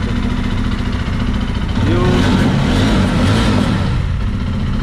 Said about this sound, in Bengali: গাড়িটা স্টার্ট করে দেখে নিচ্ছি।